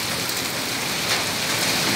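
Heavy rain mixed with hailstones pelts a road in Delhi, a dense, loud, continuous hiss of drops striking the surface with no letup.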